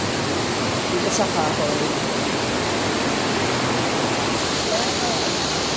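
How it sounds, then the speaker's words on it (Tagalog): Fast floodwater after heavy rain rushes past a tree on a farm, a loud, steady broadband roar that never lets up, with a voice speaking briefly over it. "Maagos yung tubig"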